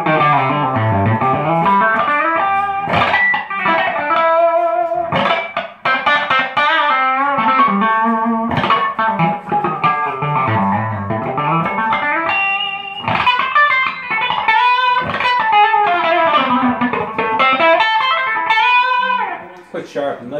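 A 1984 Fender Flame electric guitar plays a jazzy melodic line with sustained chords and single notes, colored by effects and light distortion, loud and continuous with no talking.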